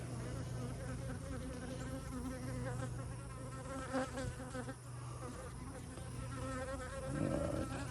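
Honey bees hum and buzz steadily up close, a dense droning swarm with a few louder individual passes.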